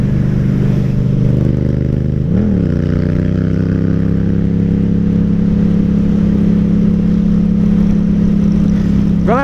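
A Yamaha MT-07 ABS motorcycle engine drones steadily at cruising speed, close and loud, with a brief rise in revs near the start and another toward the end, wind rushing over the mic throughout.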